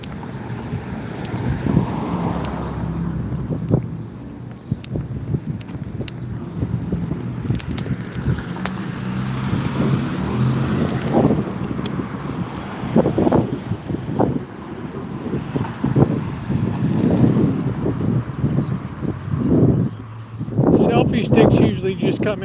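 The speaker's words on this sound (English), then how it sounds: "here comes that wind I warned you about" Strong outdoor wind buffets the microphone in a constant low roar that swells and gusts, with a person talking over it throughout.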